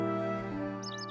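Short chirping bird calls from Professor Layton vs Phoenix Wright: Ace Attorney, a few quick high tweets near the end over steady game music.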